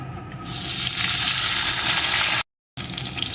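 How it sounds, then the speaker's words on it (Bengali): Tempering spices and chopped tomato fry in a pan with a loud, hissing sizzle that swells up, briefly cuts out to silence, then carries on close by without talk. "ফোড়নগুলোকে সুন্দর করে ভেজে নেব"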